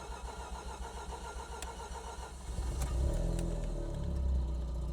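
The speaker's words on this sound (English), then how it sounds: "So while we wait for our engine to warm up" A rotary-engined car turns over and catches, then settles into a steady, rumbling warm-up idle that grows louder and fuller after the start.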